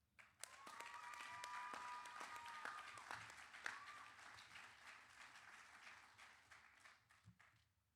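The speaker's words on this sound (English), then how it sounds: "join me in a round of applause for the graduates of Bosun's Mate 2501" Sustained applause from a graduation audience for Coast Guard Bosun's Mate A School graduates, steady dense clapping that fills the whole stretch and thins out toward the end.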